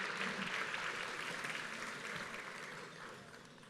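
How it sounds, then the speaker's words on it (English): Sustained audience applause at a county quality and productivity commission awards ceremony honoring award winners, a dense steady wash of many hands clapping that gradually fades toward the end. "Again, a nice round of applause for everybody on the project team and Jim Jones with the Silver Eagle Award"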